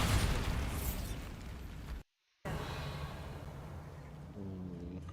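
A Bombarda blasting spell goes off in Hogwarts Legacy: a quiet explosive burst opens and slowly decays, the sound drops out briefly, then low rumbling resumes with a faint tonal hum near the end.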